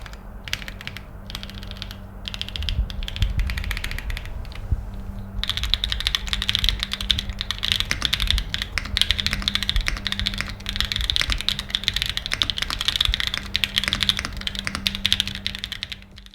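Typing on a custom mechanical keyboard with Obscura linear switches and a carbon fiber plate, a dense, steady run of close keystroke clacks lasting throughout, with no voices.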